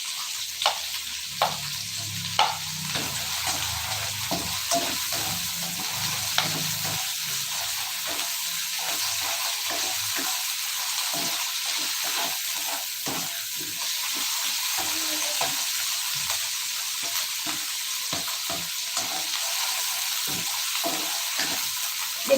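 Chili and spring onion frying in a pan, a steady close sizzle broken by frequent sharp clicks and scrapes of stirring, with a low rumble early on.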